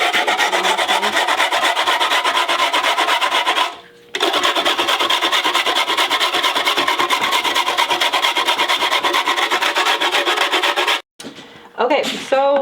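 A hard lump of washing soda is rubbed on a cheese grater in rapid, rhythmic rasping strokes, loud and close, with a brief pause near four seconds and a break near eleven seconds.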